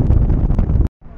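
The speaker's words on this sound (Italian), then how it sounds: "C'è un po' di vento, devo dire." Strong wind buffets the microphone atop the bell tower of the Church of Our Saviour in Copenhagen, a loud, rough rumbling roar that cuts out briefly and then returns.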